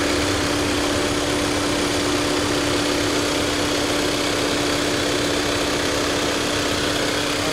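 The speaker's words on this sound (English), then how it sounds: "pretty smooth running engine" Steady, continuous hum of a 2015 Volkswagen Jetta's 2.0L direct-injection turbocharged diesel engine idling nearby, constant and even with a faint tonal drone and no talking.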